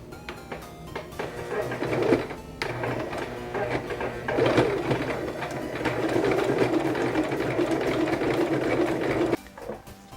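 Sewing machine stitching ribbon onto fabric for a cosplay headband, loud buzzing runs of stitching broken by brief pauses as the fabric is turned, close and without talk.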